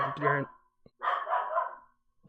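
Dogs bark indoors, close by: two loud, harmonic bursts separated by a short pause, followed by quiet.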